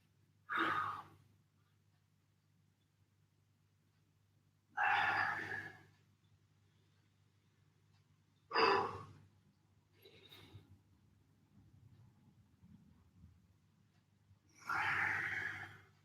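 Deep breaths during a live upper-body prehab home workout: four loud, forceful exhalations spaced several seconds apart, close up, with a quieter breath between them and no talking.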